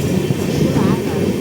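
The Secunderabad-Kollam special train, running hours late, rolls in at platform 2 of the small Ariyalur station as a loud, steady rumble with a faint clatter of wheels that fills the whole moment.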